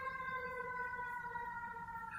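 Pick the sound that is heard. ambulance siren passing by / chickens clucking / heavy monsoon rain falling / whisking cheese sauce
ambulance siren passing by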